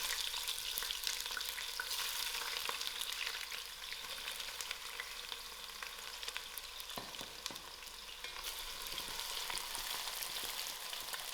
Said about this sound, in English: I'll allow these onions to fry out.